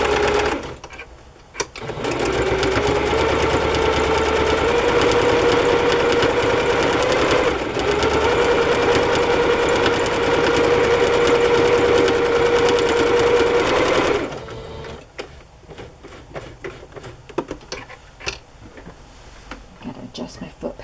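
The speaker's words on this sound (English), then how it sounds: "the zigzags are closer together, and it seems like the machine is going more slowly" A sewing machine runs steadily for about twelve seconds, stitching close-set zigzag stitches on fabric for padded covers, with a continuous whirring hum and a brief dip midway. It stops, then quieter handling noises follow.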